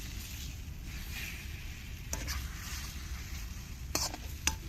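Mashed roasted eggplant bharit stir-fried in plenty of oil in a pan, giving a soft continuous sizzle with a few sharp spoon scrapes and clinks against the pan.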